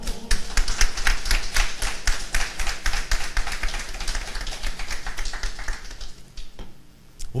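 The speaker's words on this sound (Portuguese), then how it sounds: "Você pode aplaudir ao Senhor?" A church congregation at a Portuguese-language service claps along in sharp, fairly regular strokes, a dense run of hand claps that thins and fades out near the end.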